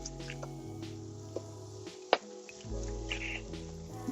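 Liquid goes into a roux for homemade gravy to serve with roast beef, with soft wet drips and squishy bubbling, one sharp click, and a low steady hum beneath, close and fairly quiet.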